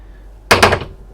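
A cabin door aboard an Absolute 56 Fly motor yacht opening: one sharp, close wooden thud with a short rattle lasting about a third of a second, against a quiet interior.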